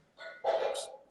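A dog barks at the door, two or three close, loud barks running together in about a second, heard alone without talk.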